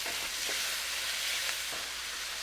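Beef stir-fries in a hot wok with ginger, garlic and green onion, giving a dense, continuous sizzle with faint scraping strokes of a spatula now and then.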